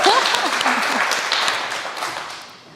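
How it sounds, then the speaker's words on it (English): A short burst of audience clapping at a university startup talk event, with a brief voice at the start. It fades gradually over a few seconds. "Can I get a little round of applause for Steph"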